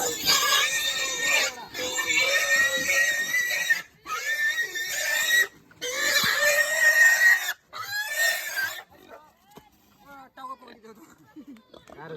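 Pigs being loaded onto a truck give loud, sustained squeals in several long bursts broken by short pauses, then fade to scattered grunts while people talk around them.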